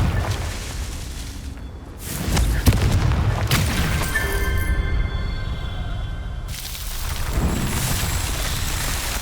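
In Hogwarts Legacy, the Confringo fire spell hits with a heavy boom, then a sustained roaring, crackling rumble with a ringing tonal layer, loud and dense throughout before it tails off.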